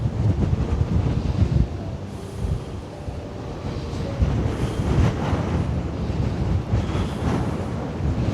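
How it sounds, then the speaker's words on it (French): Strong wind buffets the microphone outdoors at an abandoned site, a steady low roar with gusty surges throughout, loud and close, with no voices. "On se prend du vent quand même."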